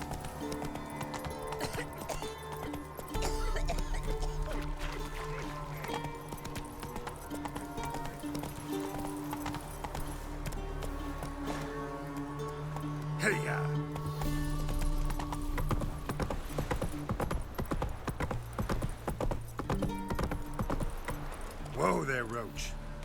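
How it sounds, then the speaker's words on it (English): Horse hooves gallop in The Witcher 3 video game, a continuous rhythmic clopping alongside a jangle of tack, with music and game sounds layered underneath. "Whoa there, Roach"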